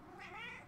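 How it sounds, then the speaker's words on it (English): A cat meows in a single short, drawn-out call, close and fairly clear, with no voices over it. "when the cat was meowing"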